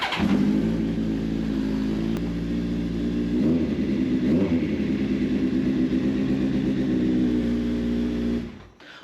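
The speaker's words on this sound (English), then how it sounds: "I was about to start working on it without letting you hear this bike run first, so check it out." A Honda CBR motorcycle engine runs steadily for several seconds, a loud, close, even mechanical drone with small shifts in pitch, then cuts off sharply near the end.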